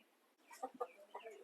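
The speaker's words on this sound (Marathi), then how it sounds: "कोंबडे आहेत." A few soft, quiet clucks come from chickens near a rural roadside dhaba surrounded by forest, scattered short calls over a hushed background.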